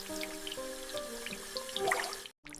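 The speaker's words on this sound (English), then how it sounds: "I wash my face" Tap water runs into a bathroom sink during morning face washing, a steady splashing stream with small drips, then cuts off briefly near the end before resuming.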